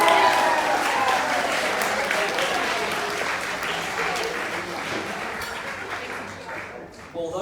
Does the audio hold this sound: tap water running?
no